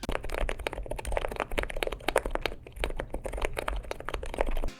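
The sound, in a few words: silent tactile mechanical keyboard switches typing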